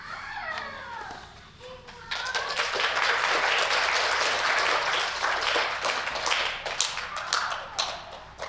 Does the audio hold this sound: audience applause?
yes